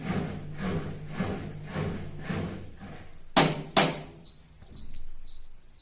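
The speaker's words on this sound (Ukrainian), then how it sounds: "І ось звук закінчення стірки." An Indesit OMTWSA 61053 WK washing machine hums and churns as its pump drains water after spinning, then two loud clunks, followed by a short series of high electronic beeps signalling the end of the cycle.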